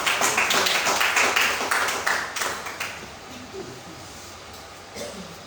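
A church congregation at an evening service applauding the Lord, a dense burst of close clapping that fades out after about three seconds, leaving a few scattered claps and taps.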